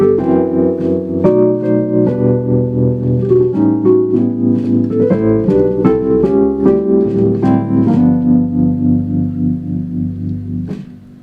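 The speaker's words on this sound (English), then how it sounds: "with the Wurlitzer it sounds like this" A Wurlitzer electric piano voice on a Nord Stage 2 with tremolo plays a sequence of sustained chords, each pulsing with a steady, rhythmic wobble in volume, loud and close, before fading at the end.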